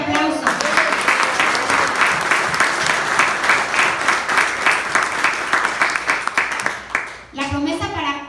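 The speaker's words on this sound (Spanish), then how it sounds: "Date un fuerte aplauso." A church congregation breaks into loud, sustained applause for about seven seconds, dense rapid clapping from many hands filling the room before it fades and a voice starts speaking at the end.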